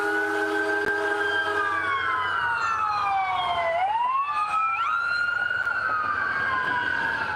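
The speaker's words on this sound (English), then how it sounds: "That's this ambulance, guys." An ambulance siren sweeps past loud and close, its wailing tone gliding down then snapping back up as it passes, with steady traffic rumble beneath.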